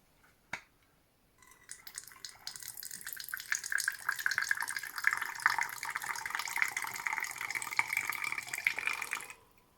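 Liquid fuel pours steadily into a Swedish army ranger stove (Enmanskök Jägare m/t) from a bottle, a close, continuous trickling splash lasting several seconds after a brief click, with no talking.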